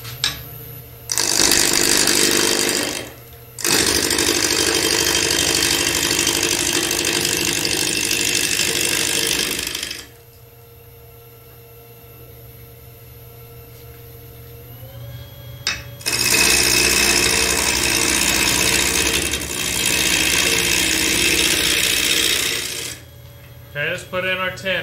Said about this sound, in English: I'm going to rough it down here with my 5/8 gouge here.